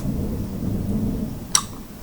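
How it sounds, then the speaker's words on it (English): A sharp, close crack of thunder cuts through the steady hiss of heavy rain, a single loud burst near the end over continuous downpour. "I don't know if y'all heard that thunder"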